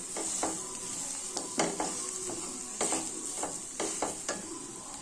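Asafoetida stirred into a sizzling tempering in a pan: a steady frying hiss underneath repeated scraping strokes of a spoon against the metal pan, coming in irregular bursts, close up with no voices.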